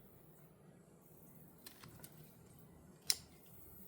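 A hardy hibiscus stem snipped with shears for a propagation cutting: a few soft rustles and small clicks, then one sharp close snip, quiet and isolated.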